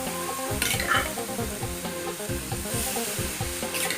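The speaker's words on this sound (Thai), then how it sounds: "ผัดคะน้าต่อครับ ถ้นร้อนครับ" Chinese kale stir-frying in a hot pan, a steady close sizzle and crackle that runs the whole way through, with stirring scrapes now and then.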